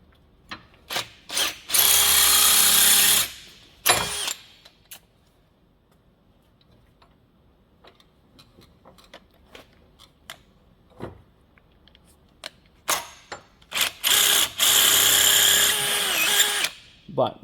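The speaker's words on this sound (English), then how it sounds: "I'm just going to drill out the washer till it fits" A power drill bores out a washer on an EP Raven Les Paul guitar, with two long, loud whining bursts of drilling separated by quiet handling clicks and taps.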